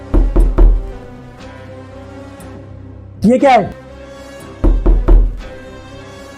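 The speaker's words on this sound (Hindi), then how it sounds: "ये दरवाजे पे कौन है?" Knocking on a door comes in two clear bursts of three quick raps, separated by a short spoken line from a man in a tense indoor scene.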